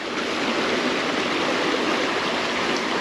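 A broad, steady rush of running river water at a fishing spot fills the scene, loud and close, with a constant wash of noise and no talking.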